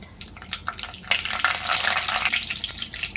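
Mustard seeds, a bay leaf and curry leaves crackle and sizzle in hot oil for a dhaba-style masoor masala. Irregular pops and spits grow louder and busier as the frying goes on.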